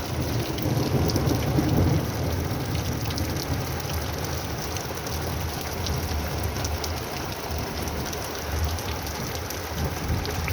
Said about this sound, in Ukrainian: Зараз буде шандарахкать. Громить.